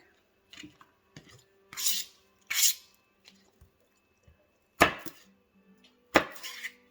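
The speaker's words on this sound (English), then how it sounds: "So we're going to peel the garlic." Garlic cloves being peeled by hand for roasted vegetables, making a few short papery rubbing and crackling bursts with quiet gaps between them, close and fairly soft, with no talking.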